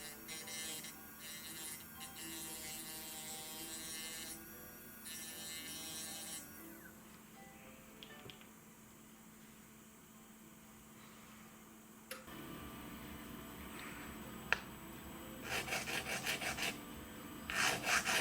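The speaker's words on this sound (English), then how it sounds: "After lightly milling the 4 prongs with the bicone burr" A bicone burr lightly mills the four prongs of a solitaire diamond setting in jewelry work, giving a steady, fairly quiet rasping grind in repeated passes that pause and resume, with no talk.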